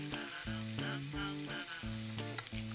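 Onions sizzle gently in a pan with a steady, soft frying hiss that runs the whole time beneath prominent tonal background music.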